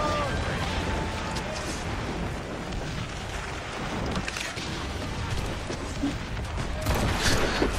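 Ship cannon fire in Assassin's Creed Rogue booms in a dense, continuous roar of battle noise with heavy blasts throughout and a stronger burst near the end, with voices in the mix.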